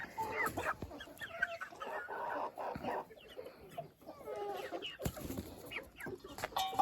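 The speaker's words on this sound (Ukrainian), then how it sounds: "Ну, це точно півень." A rooster clucks and calls at close range in a backyard poultry coop, a string of short, uneven bursts with brief pauses between them and faint rustling in the background.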